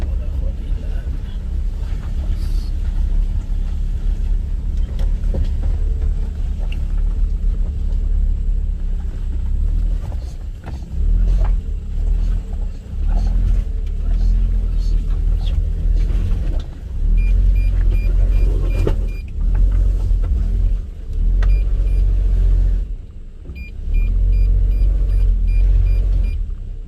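A car that is not four-wheel drive rumbles loudly and steadily with some wind buffeting, its engine noise dipping and surging, while a voice is heard now and then.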